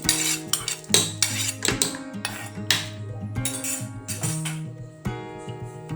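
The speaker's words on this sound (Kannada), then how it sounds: "ಈಗ ಹುರಿದಿಟ್ಟುಕೊಂಡ ಮೆಣಸು ಮತ್ತು ಉದ್ದಿನ ಬೇಳೆಯನ್ನು ಇದಕ್ಕೆ ಹಾಕ್ತೇನೆ." Metal spoon clinking and scraping against a steel grinder jar while roasted chilies and urad dal are added for chutney, a busy run of close, bright clanks and taps over about six seconds.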